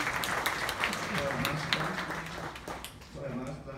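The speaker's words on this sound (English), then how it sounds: "let us give the choir another round of applause" Audience applause for the choir at a university graduation ceremony, a steady wash of clapping that runs the whole time, fading slightly near the end, with voices mixed in.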